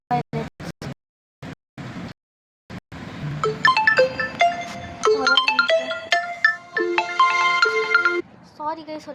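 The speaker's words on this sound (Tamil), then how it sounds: "ஒரு சின்ன ஃபோன் கால் வந்துடுச்சு" An incoming phone call rings as a melodic electronic ringtone, a run of bright tones playing for several seconds close to the microphone after a few short clipped bursts of talk.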